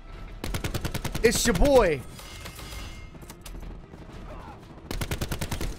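Rapid gunfire in a shooter video game, bursts of sharp automatic shots at the start and again near the end, with a voice talking over the first burst.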